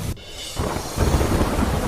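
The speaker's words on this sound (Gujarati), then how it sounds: "રાજકોટના લોધિકા અને આસપાસના ગ્રામ્ય વિસ્તારમાં ધોધમાર વરસાદ" Heavy downpour with rumbling thunder over rural villages around Lodhika near Rajkot, Gujarat; a dense wash of rain rises to a loud, continuous roar after a brief quieter moment near the start, with no voices.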